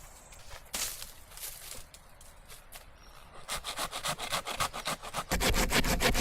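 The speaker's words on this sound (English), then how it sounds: "Selecting a tree trunk with suitable diameter, sawing it into round slices, creating floor blocks" A hand saw cuts through a tree trunk in a forest, slicing round blocks for flooring, with slow strokes at first and then a fast, steady rhythmic rasp that grows louder and closer toward the end.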